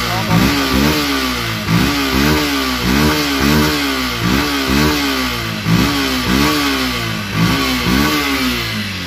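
A Yamaha Fazer 150cc motorcycle engine revved repeatedly in short rhythmic bursts, each rising and falling about once a second, loud and close with a steady exhaust rumble between pulses.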